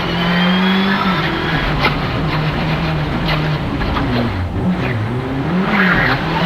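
A rally car on worn tyres at the Haut Pays Niçois rally runs hard and close, its engine droning steadily while tyre squeal and skidding scrub through it for several seconds, with no one talking.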